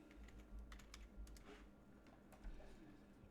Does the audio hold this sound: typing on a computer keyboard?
yes